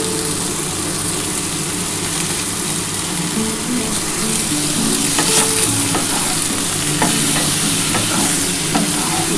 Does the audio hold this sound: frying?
yes